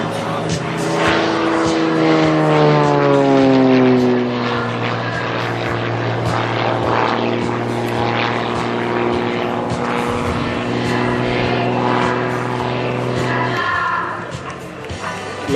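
Propeller aircraft engine rated at 300 horsepower with a glass-fibre tail and steel-tube fuselage, performing at an air show; a loud, steady drone with shifting pitch sweeps that stays strong throughout, with no talk over it.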